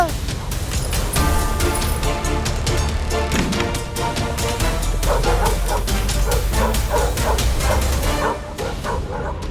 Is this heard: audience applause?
no